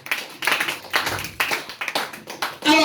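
Church congregation clapping and cheering in bursts, loud and close, mixed with voices and shouts throughout.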